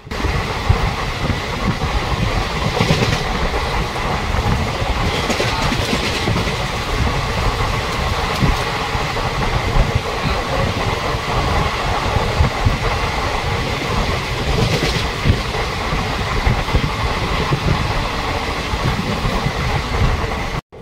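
The Kanchankanya Express passenger train runs on rails between Kolkata and Siliguri, heard from inside as a loud continuous rumble with rhythmic clickety-clack of wheels over rail joints and no voices.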